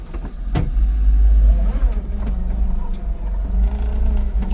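A Daihatsu Hijet mini dump truck reverses in low-range four-wheel drive, its small engine giving a steady low hum and drone under a sharp click, with gear whine and light mechanical rattles nearby.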